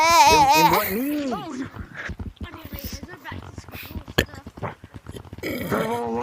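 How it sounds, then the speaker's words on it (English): A loud, drawn-out burp with a wavering, voiced tone, let out right in someone's face, followed by excited chatter and laughing voices. "That burp was tasty."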